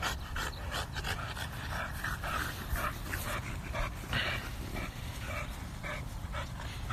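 A dog pants steadily and shuffles around close to the microphone, with a few faint whimpers over constant background noise.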